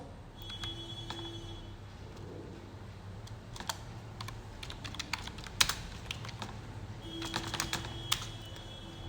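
Computer keyboard typed at a steady pace while entering bill details into Tally accounting software: quick, irregular clicks in short bursts with brief pauses, close and clear, with no talking.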